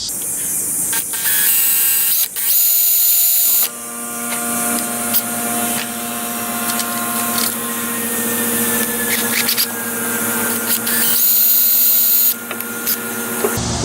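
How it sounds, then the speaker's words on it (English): Drill bit boring out and enlarging the holes in a replacement part for a Husky Q45 pressure washer, a close whining, buzzing power-tool sound that runs in several bursts with short pauses between. "just take a drill bit and make these a little bigger"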